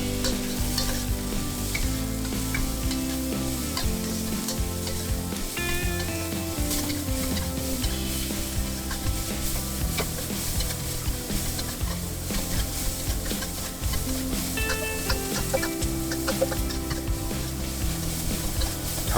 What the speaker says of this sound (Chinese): 炒至青椒出现虎皮